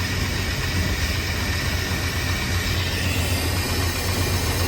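A 1995 GMC Sierra 2500 pickup with a blown head gasket idling, a loud, steady, droning engine rumble that stays even throughout with no talking.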